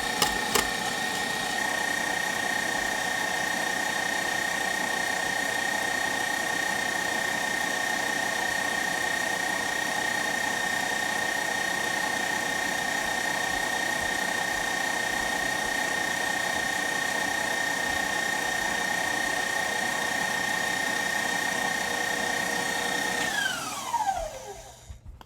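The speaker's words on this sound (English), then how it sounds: "And now we're whipping those egg whites" A mixer whips egg whites for Swiss buttercream with a steady, even whine that holds for over twenty seconds before spinning down at the end, with no talking.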